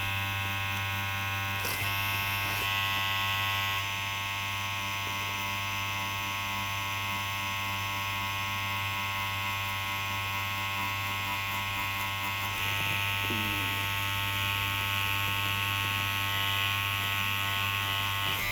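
A tattoo machine needle shades skin with a steady, close electric buzz and hum that holds constant throughout, with a few small clicks and no voices.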